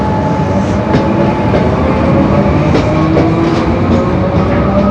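Train rolling past with a steady, loud rumble and rhythmic clickety-clack of wheels on rails, continuous throughout with faint high squeaks.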